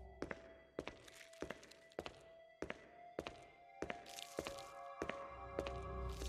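Slow, evenly spaced footsteps thud on a hard floor in the Resident Evil video game, about ten heavy steps at a walking pace, close, with a low ambient hum rising toward the end.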